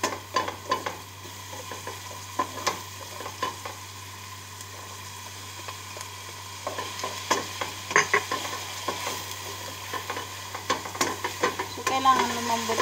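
Two tomatoes frying in a pan for chicken calderita, with a soft steady sizzle under repeated scraping stirs and light utensil taps on the pan, close and moderately quiet.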